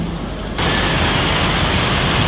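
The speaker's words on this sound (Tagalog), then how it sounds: "Ang lakas ng hangin at ng ulan." Heavy rain pours steadily, a dense broadband roar that swells suddenly louder after a moment and stays loud, with wind mixed into the downpour.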